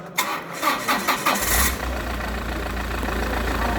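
A car engine cranking on its starter motor during a starter voltage and current test, a few rhythmic cranking pulses that catch and settle into a steady running drone, close and loud.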